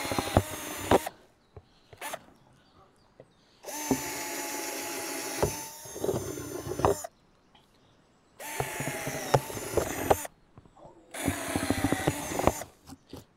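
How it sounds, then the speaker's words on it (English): A power drill with a step bit bores holes into the bottom of a plastic trash can being made into a compost bin, in four loud whining bursts separated by quiet pauses. "I'm going to drill some big holes in the bottom."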